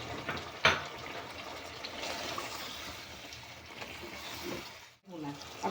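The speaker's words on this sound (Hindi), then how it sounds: "अब इसमें हम पानी डालूंगी।" Water poured into a cooking pot of chicken kunna, a running, splashing stream that swells and eases with a brief knock early on and a short break near the end, while a voice talks over it.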